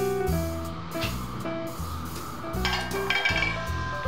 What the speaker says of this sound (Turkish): ocağımıza eski bir tavamızı koyup ısıtmaya başlayalım